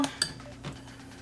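A metal kitchen pan is picked up, giving two quick, light clinks close by, followed by a brief soft knock in an otherwise quiet room.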